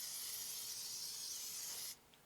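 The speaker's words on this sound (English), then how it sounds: "I'm just gonna hit it with a little bit of cooking spray" Cooking spray hisses onto chicken leg quarter skin at a pellet grill, one continuous close burst of about two seconds that stops abruptly, leaving near silence.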